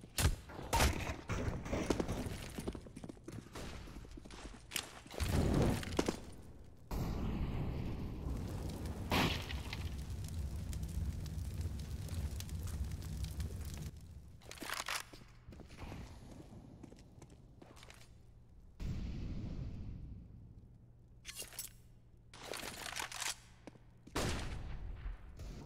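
Counter-Strike gunfire with Desert Eagle pistols and a Galil rifle during a competitive match on Mirage, bursts of sharp shots and rattling volleys separated by brief lulls, loud and mixed with in-game ambience.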